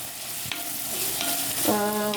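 Small onions sauté in hot oil in a pan for a clam roast, giving a steady sizzle with a few stirring scrapes and a brief clatter near the end, fairly close and without talk.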